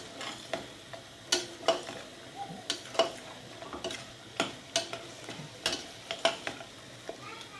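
Spices for a paneer curry gravy sizzle softly in a pan on the stove while a spoon scrapes and taps against it in a steady rhythm of quick strokes, close and fairly quiet, with no talk.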